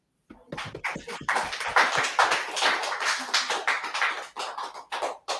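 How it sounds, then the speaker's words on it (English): A crowd clapping hands at an announcement event, dense sustained applause rising quickly and holding steady for several seconds before thinning slightly, loud and close with no voices over it. "Clap it up."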